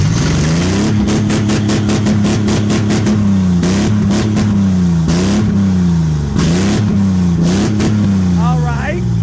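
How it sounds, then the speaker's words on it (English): Loud, close open-exhaust revving from a BMW 740i and a Mercedes E320 at a junkyard, engines repeatedly blipped and held in uneven bursts, with people talking over them. "We have open exhaust on these units."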